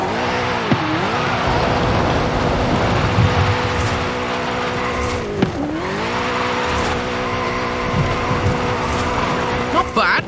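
A 2015 Ford Mustang GT in Forza Horizon 5 drifts downhill through corners, its engine droning steadily with rising and falling pitch sweeps and tire squeal, loud and continuous throughout.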